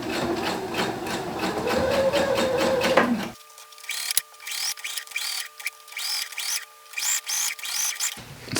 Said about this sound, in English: So I'll just top stitch, edge stitch all the way around, so it won't be 2 separate fabrics.